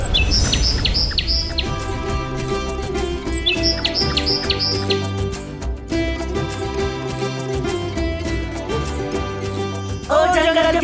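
Birds chirp in quick bright bursts of high tweets, repeating over a steady bed of dramatic background music from a supernatural Hindi drama, with no talking.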